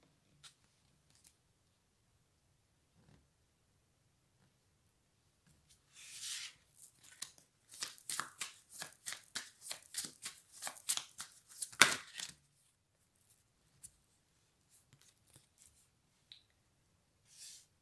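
A card is handled and laid face down, making a quiet burst of crisp paper rustles and rapid flicks in the middle, with faint isolated taps before and after in an otherwise silent room.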